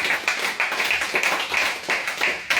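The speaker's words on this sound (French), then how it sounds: "Acclame très fort pour le Seigneur." A church congregation claps rhythmically in praise, steady rapid hand claps from many people at close range, with no talking over them.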